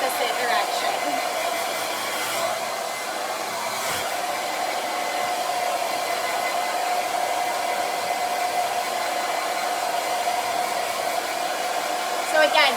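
A hair dryer blows steadily and loudly throughout while hair is being blow-dried into volume and waves, a continuous close whooshing hum with no talk over it.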